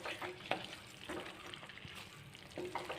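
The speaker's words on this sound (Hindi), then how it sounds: "इसको फिर 1 से 2 मिनट के लिए हम भून लेते हैं अच्छे से" Mutton for a white karahi fries with white pepper and crushed dry coriander, making a faint, continuous crackling sizzle broken by a few soft scraping stirs.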